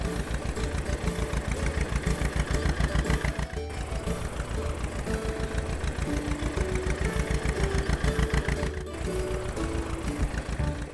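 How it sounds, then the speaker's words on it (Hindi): A mini tractor's small engine chugs steadily in a fast, even rhythm at close range, running continuously with only brief dips in the note as it is driven. "वो उस ट्रैक्टर को चलाते हुए"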